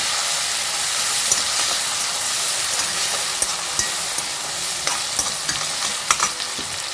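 Finely chopped small onions sauté with a ground paste in a pan for a pepper gravy, giving a steady, close sizzling hiss with small crackles and stirring scrapes throughout, no voices.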